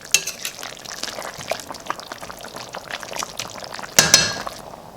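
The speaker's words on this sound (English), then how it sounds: "We'll give it a stir, then cover and continue to cook on low." Beef and lamb stew stirred in a pot as it cooks, with scraping spoon strokes and soft bubbling, then a louder clatter near the end, likely a lid going on.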